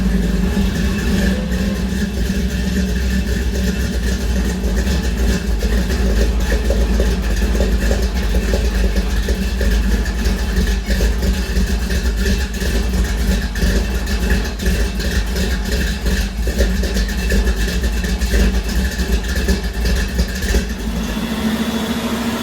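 A 1956 Chevy engine with Dynamax mufflers runs steadily with a loud, close, low exhaust rumble and a constant mechanical hum, holding an even idle throughout with no voices.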